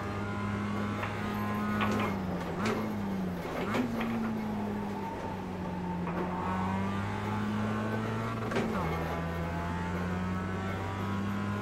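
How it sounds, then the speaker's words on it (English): Mazda MX-5 race car in iRacing at Tsukuba hitting the rev limiter, a steady buzzing engine drone with small pitch steps and dips as it bangs against the limit, with faint talk underneath. "Banging that rev limiter."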